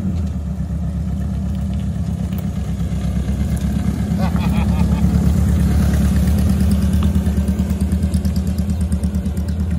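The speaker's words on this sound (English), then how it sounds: "They're called a specialty trike build" A custom specialty-built motor trike runs with a loud, steady, throbbing engine note that swells slightly midway, while people talk over it nearby.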